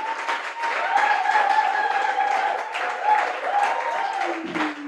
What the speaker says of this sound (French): On acclame les vrais parents